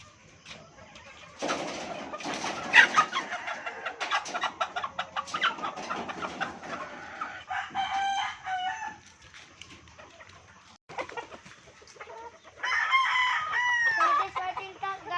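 A fighting cock crows repeatedly and clucks nearby. Loud crowing bursts alternate with short quieter clucks and pauses, with the bird close to the listener.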